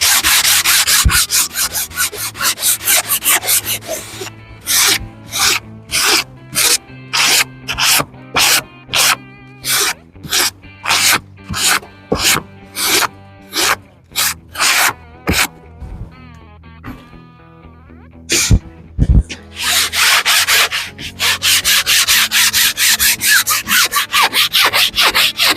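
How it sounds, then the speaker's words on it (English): Fine sandpaper rubs wood in a campervan interior, starting with a continuous scrub, then turning into about twenty rhythmic back-and-forth strokes, and ending in steady, loud close sanding again. "use a nice fine sandpaper"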